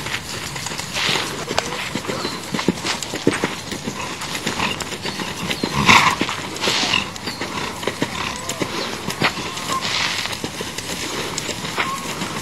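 A horse moves through its paces in an arena in Auburn, California, its hoofbeats thudding in an irregular rhythm amid scuffing, rattling and other movement noise, with no one talking.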